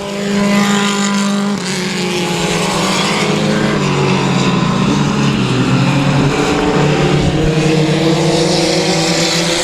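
Loud race car engines howl continuously at South Texas Speedway, pitch shifting as cars drive hard into a turn, a dense unbroken roar with no voices.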